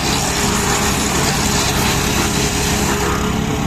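A wood chipper runs with its cover off, its engine giving a loud, steady drone that holds evenly throughout with no voices.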